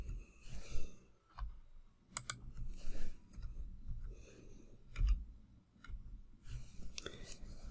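Soft, close keyboard clicks come in short bursts as a word is typed into a Minecraft Education Edition inventory search, quiet and irregular, with faint breathing between.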